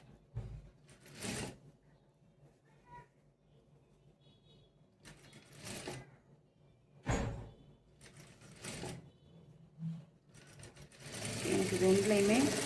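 A sewing machine stitches a blouse sleeve in several short bursts with quiet gaps between them. A steadier, louder run of stitching comes at the end, and a voice talks in the background.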